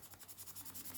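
Pencil shading inside a shark-shaped stencil, a quiet rhythmic scratch of rapid back-and-forth strokes repeating close up and alone.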